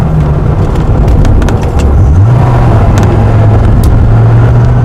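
A 2017 Dodge Viper sits at a stoplight with its engine giving a deep, steady low rumble, loud and continuous throughout with no talking.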